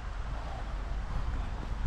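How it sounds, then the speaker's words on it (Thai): Strong wind roars steadily across a campsite at Phu Lom Lo near Ban Rong Kla, buffeting the microphone with loud, continuous low rumbling gusts and no voices. "ลมแรงมากเลยครับตอนนี้"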